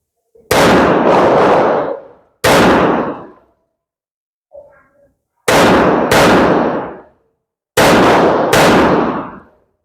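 Pistol fitted with a tungsten barrel fired outdoors in a recoil test: sharp, very loud gunshots, single or in quick pairs, each ringing out with a long decaying echo, with a brief faint clink between volleys.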